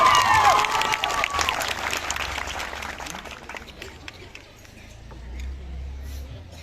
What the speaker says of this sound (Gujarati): એક જોરદાર જાનદાર અને શાનદાર તાળીઓનો વરસાદ થઈ જાય